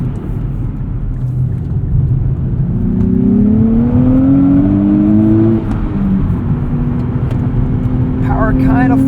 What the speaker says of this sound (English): it is very, very satisfying to bring this engine out when boost kicks in.